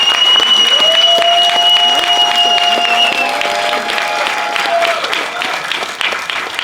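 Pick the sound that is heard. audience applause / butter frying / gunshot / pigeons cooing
audience applause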